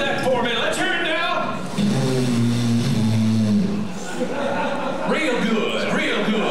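Disneyland's Golden Horseshoe Saloon audience blows buffalo lips together to imitate a stampede of buffalo, producing a loud, sustained crowd-wide fluttering rumble with some laughter and chatter around it.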